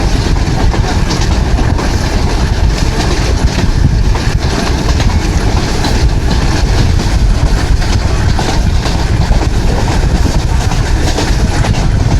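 A Millat Express passenger train rolls along the rails toward Khewra, filling the space with a loud, steady rumble, rushing wind and rhythmic clickety-clack of wheels over joints, heard from on board.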